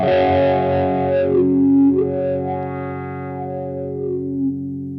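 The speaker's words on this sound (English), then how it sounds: "with it turned all the way down, there's a large group of frequencies that's being swept by the wah knob" Electric guitar through a Dunlop Crybaby Q Zone fixed wah pedal at its wide frequency setting, a distorted chord struck and left ringing as the tone swells and fades, close and alone.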